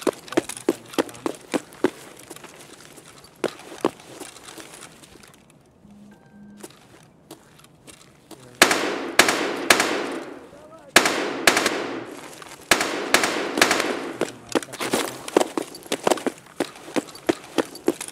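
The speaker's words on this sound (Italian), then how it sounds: "mi stanno sparando" Gunfire in Escape From Tarkov on the Interchange map, with bursts of rapid automatic shots and single cracks scattered through a quieter stretch, some loud and near, others fainter, with occasional faint footstep-like thuds.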